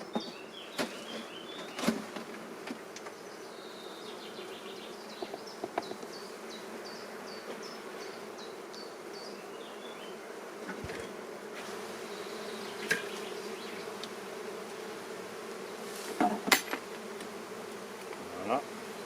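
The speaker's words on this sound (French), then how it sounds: "Donc vous voyez, les abeilles sont assez calmes, sauf à la fin un peu." Honeybees buzz around an open hive frame as a beekeeper inspects it, a steady low hum with occasional nearer passes and light clicks and handling noises.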